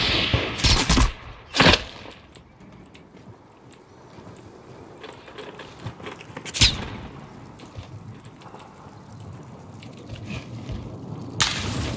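Sharp bursts of gunfire crack in the video game Warzone, a few loud shots early and one later, over a low rushing background ambience.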